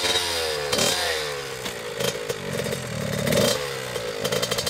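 RAM 1500 two-wheel-drive pickup revving while driving off road across a farm field, the engine rising and falling in pitch with several throttle surges, close, with clattering and rattling underneath.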